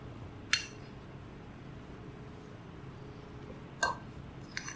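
A spoon mixes grated cheese into a chicken nugget mixture in a bowl, giving two or three crisp metallic clinks against a quiet background, with no voices.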